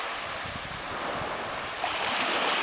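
Sea waves wash steadily onto Pulsano beach in Puglia on a calm October day, a continuous broadband surf hiss with light wind and no voices.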